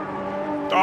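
Nigel Mansell's 1991 Formula One car in Automobilista 2 racing toward the Rivazza corner, a steady high engine drone under commentary that swells louder and rises sharply near the end.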